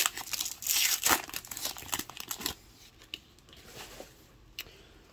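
Stargate movie trading card packs being ripped open, with loud crinkling and tearing of foil wrappers in quick bursts followed by quieter rustling and a few sharp crackles.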